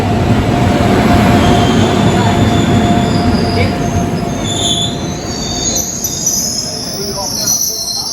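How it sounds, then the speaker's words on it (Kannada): A train arrives at a station with loud, high-pitched wheel squeals over a rumbling rolling roar, the screeching shifting and fading as the cars slow, with faint voices in the background. "ನಮ್ಮ ಟ್ರೈನ್ ಬಂತು"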